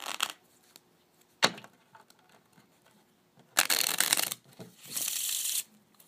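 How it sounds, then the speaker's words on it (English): Playing cards given a riffle shuffle: a short snap, then two bursts of fast fluttering clicks as the halves interleave, followed by a softer bridging whir, close up with no talk. "I'm gonna give the cards a riffle shuffle."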